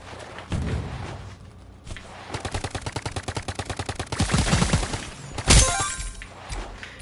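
A gun firing in the video game Big Paintball 2: a fast rapid-fire burst of evenly spaced shots running for a few seconds, building louder toward the end, capped by a sharp heavier blast, with no talking over it.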